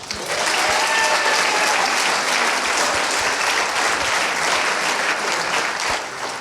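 An audience applauds steadily and loudly at a foundation's fifteenth-anniversary event in Paris, the clapping sustained for several seconds before easing slightly at the end, with no voices over it.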